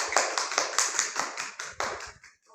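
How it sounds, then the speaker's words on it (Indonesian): A small group in a classroom claps during a micro-teaching practice session, a light, close scatter of hand claps in quick uneven bursts that fades out after about two seconds. "Beri tepuk tangan yang meriah."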